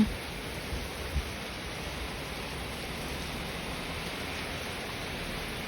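Continuous even hiss of steady rain falling, uniform and unbroken throughout, with a couple of faint knocks at the start.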